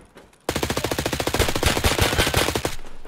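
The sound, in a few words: MPX submachine gun fire in Escape from Tarkov video game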